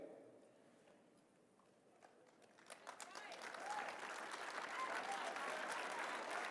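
Applause from a conference audience at CPAC 2019, starting after a quiet stretch and rising to a dense, sustained clapping.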